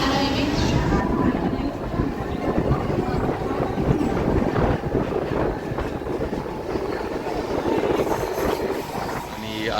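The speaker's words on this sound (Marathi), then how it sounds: "आणि ट्रेन आली आहे." A Mumbai local train pulls into the station, a continuous loud rumble and rattle of wheels and carriages.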